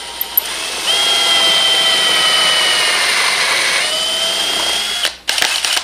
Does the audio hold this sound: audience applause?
no